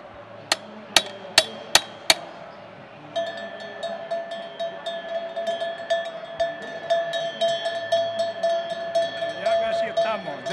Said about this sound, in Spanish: donde hay que darle el golpecito. ¿Cada cencerro suena diferente?